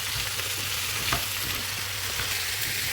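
Cauliflower fries in a pan for aloo gobi, giving a steady dense sizzle, with a soft scrape of stirring partway through, close and continuous.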